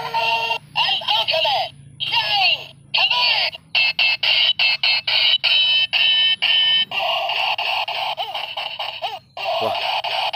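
An Ultraman toy playing loud, close electronic sound effects, bursts of bright synthetic tones and chirpy melodic beeps in choppy segments separated by short pauses.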